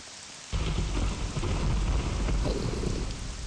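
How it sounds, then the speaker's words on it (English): Thunder breaks loud and sudden in Morrowind, a deep rolling rumble that swells and lingers over heavy steady rain pouring down close by. "Thunder."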